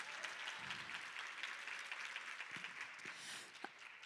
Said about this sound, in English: So please give it a round of applause.